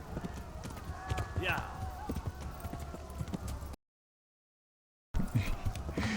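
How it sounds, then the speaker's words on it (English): A horse gallops at full speed in the medieval video game Kingdom Come: Deliverance, with rapid rhythmic hoofbeats and clip-clop, moderately loud, cutting out briefly to silence before resuming, with someone talking over it. "O galope é a velocidade mais rápida."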